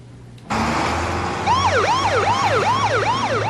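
An ambulance siren starts abruptly over a low engine hum and then settles into a rapid rising-and-falling wail that repeats in quick cycles, loud and close.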